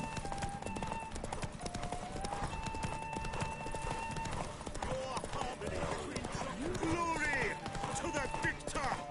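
Rapid clip-clop of a horse galloping in a video game horse race, steady hoofbeats with game effects, under a person talking in Spanish.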